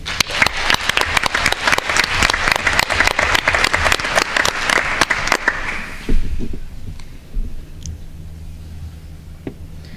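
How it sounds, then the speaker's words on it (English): An audience at a school board meeting at Mainland High School applauds loudly with dense clapping for about six seconds, then it fades to a few scattered claps and a quiet room. "Please help me to applaud Gavin Richmond"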